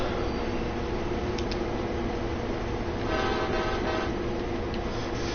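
A runaway train in the Train Sim World 2020 game rumbles loudly and continuously, with a brief horn toot early and another horn sounding later over the steady rail noise.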